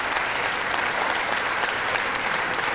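Democratic members of Congress applauding in a large chamber, a continuous even roar of many hands clapping at a distance without pause.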